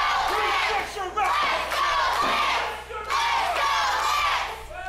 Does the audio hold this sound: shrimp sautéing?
no